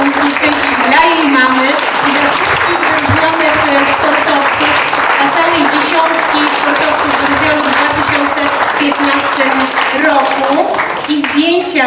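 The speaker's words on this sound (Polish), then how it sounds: "Wielkie brawa dla Weroniki" Audience applause at a sports awards ceremony, a sustained, loud, even roar of clapping lasting the whole stretch, with voices and cheers faintly mixed in beneath.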